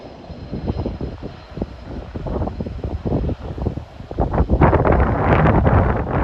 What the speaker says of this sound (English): Corporate jet just arrived.